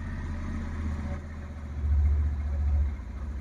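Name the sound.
Bajaj Pulsar 150 motorcycle engine started and idling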